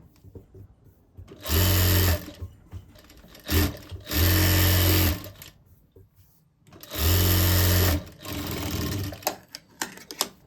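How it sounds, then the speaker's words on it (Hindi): Sewing machine stitching the lining into a sleeveless blouse, three loud, close bursts of fast steady whirring a couple of seconds each, separated by short pauses with faint handling noise between runs. "ऊपर या नीचे हल्के हाथ से सिलाई करते जाना है"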